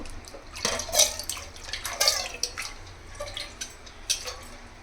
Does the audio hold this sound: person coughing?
no